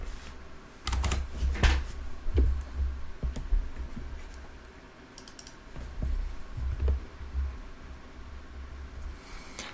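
Computer keyboard keys pressed in irregular clusters of crisp clicks and taps, close and fairly loud, with brief pauses between bursts, while flying a King Air 350i in Flight Simulator 2020.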